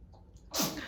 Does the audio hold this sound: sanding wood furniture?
no